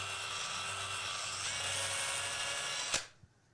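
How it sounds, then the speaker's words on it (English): A small electric drill bit whines steadily as it bores into and hollows out a plastic dice, close up, then cuts off abruptly with a clack near the end. "you can just kind of keep working that drill around inside, and it's gonna hollow the middle of that dice out"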